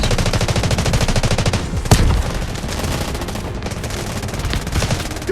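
Sustained rapid automatic gunfire from the shooter game Delta Force rattles loud and close, with one sharper heavy shot cracking through midway and the firing continuing afterward.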